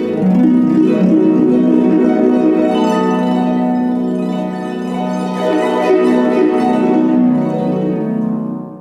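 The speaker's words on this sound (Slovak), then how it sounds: "alebo takou zvláštnou technikou je typické harfové glissando." A harp plays a glissando, a rich ringing sweep of plucked strings that rises and falls across the range, loud and close, then gently rings out at the end with no voices.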